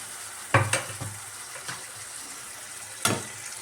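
Boiled mutton added to spiced masala frying in oil for mutton sukka: a steady sizzle runs throughout, broken by two sharp louder bursts as meat hits the pan and a few softer stirring scrapes.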